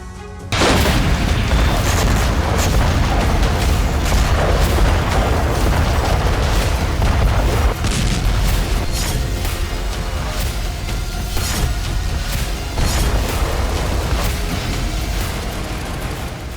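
Dense, loud explosions boom one after another during a Russian bombardment in Ukraine. The heavy blasts overlap and rumble without a break.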